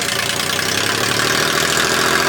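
Suzuki Carry kei truck engine idling through a tiny restrictive exhaust, a loud, close, rough and steady drone with a rapid pulsing throb and no break.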